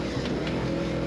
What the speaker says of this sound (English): like all the spec trucks, you're just wringing its neck at this point